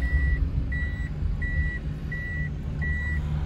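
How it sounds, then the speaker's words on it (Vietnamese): A parked truck with its rear door open sounds a steady warning beep, five evenly spaced short tones repeating without pause over a low outdoor rumble at a food distribution site. "Tiếng xe kêu là tại vì xe mở cửa sau cho nên xe lúc nào cũng kêu vậy hết."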